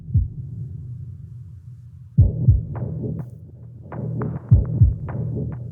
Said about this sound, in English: Just that heartbeat.